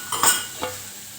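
Bitter gourd fry is stirred in a pan. Two quick scraping strokes of a utensil against the pan rise over a low sizzle, which then settles to a faint, even hiss.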